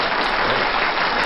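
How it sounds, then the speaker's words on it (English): An audience at a developer conference claps and applauds, a steady, dense wash of many hands heard alone throughout. "Big round of applause for that."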